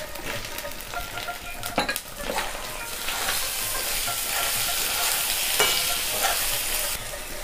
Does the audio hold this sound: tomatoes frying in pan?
yes